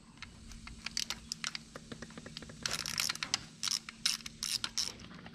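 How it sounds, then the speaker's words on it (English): Hose clamp being tightened on a Honda Africa Twin water pump, heard as a run of close, sharp ratcheting clicks that come in faster, denser bursts toward the end, with no talking. "tighten up the hose clamp"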